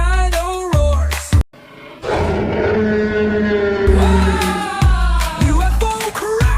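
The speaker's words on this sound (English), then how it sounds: "Dino roars." A cartoon dinosaur gives a series of loud, close, drawn-out bellowing roars, several in a row, each with a deep groaning moo-like tone and a brief pause between them.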